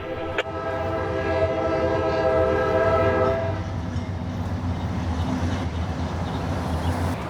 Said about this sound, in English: I'd inevitably get caught by the train again at the State Road 60 crossing just south of Yeoman Yard